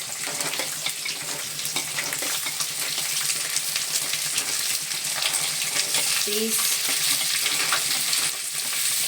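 Chopped vegetables, carrots, beans, onion, green chilies, curry leaves and frozen peas, sizzle and crackle steadily in a pan for vegetable upma, a close continuous frying hiss with faint stirring scrapes and no voices.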